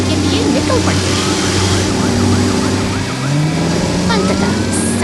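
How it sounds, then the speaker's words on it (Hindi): Emergency vehicle siren, from a fire engine and ambulance heading out on a rescue, wails in rising and falling sweeps over a steady engine drone, loud and fairly close throughout. "सायरन की गूंज शांत वातावरण को चीरती हुई सुनाई देती है।"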